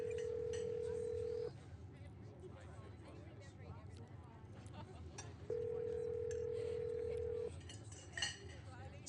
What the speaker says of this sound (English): Stella pulls out her phone and dials it